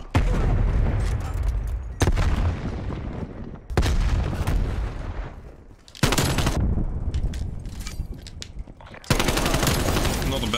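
AK rifle firing in Black Ops Cold War hardcore domination on the Garrison map, loud sustained bursts of automatic gunfire with abrupt restarts and dense overlapping shots, with a voice faintly under the noise.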